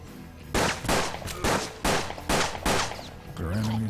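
Rapid barrage of gunfire in the Old West tactics game Hard West, a string of about eight loud, sharp shots in quick succession, ending in a short ringing tone.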